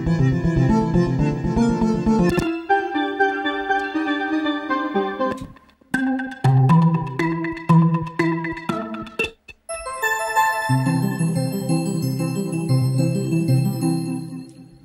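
UJAM Usynth synthesizer presets play in turn: bright bell-like plucked notes, layered chordal tones and sustained pads, separated by brief silent gaps, clean and alone.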